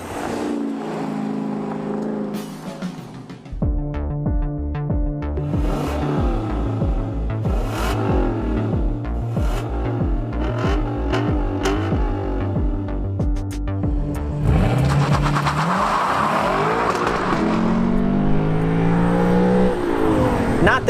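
A 2018 Lexus LC 500's V8 runs at wide open throttle on a track, loud and close, its engine note climbing steadily toward redline after a few seconds of quieter rumble at the start.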